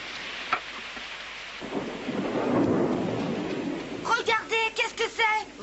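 A thunderstorm with a long rolling rumble of thunder building and fading over steady rain, followed by a quieter stretch of rainfall as a voice speaks over it.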